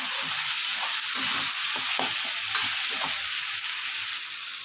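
Onions with ginger-garlic paste and chili paste sauté in a pan for a dried-fish dish, giving a steady close sizzle with spatula stirring scrapes recurring through it, no talking.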